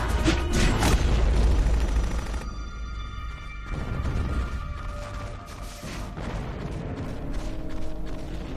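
Cannon fire from a Metford cannon in Metal Gear Solid: The Twin Snakes, a heavy booming blast with mechanical clanks, loudest early, then quieter rumbling and game effects with tonal music.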